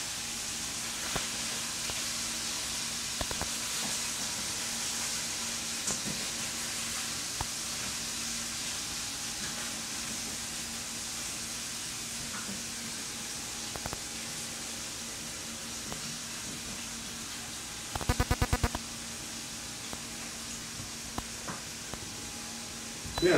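Beef sears in a very hot pan for an Asian-style beef salad, giving a steady, fairly quiet sizzling hiss with scattered small pops and a brief louder crackling burst late on.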